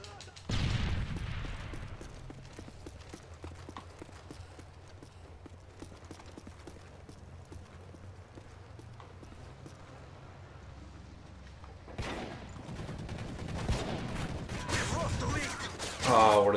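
Rapid automatic gunfire from Call of Duty: Modern Warfare 3 crackles in dense, fast repeating bursts, close and steady through most of the stretch, with a voice talking over the shooting at moments.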